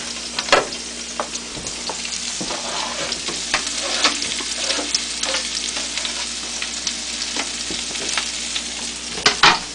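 Chopped onion sizzles steadily as it is tossed and stirred into frying potatoes in a pan, a continuous close crackle broken by louder scraping stir strokes, with no talking.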